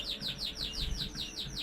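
Canaries chirp steadily in an aviary, a rapid run of bright, repeated trills in a regular rhythm, close and fairly loud.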